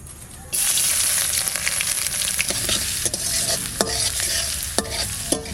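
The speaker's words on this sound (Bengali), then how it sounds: "ভাজা ভাজা হয়ে গেছে আদা রসুন কুচি" Chopped ginger and garlic with cumin seeds fry in hot mustard oil in a wok, giving a loud, steady close sizzle with light scraping and clinks as a spatula stirs them.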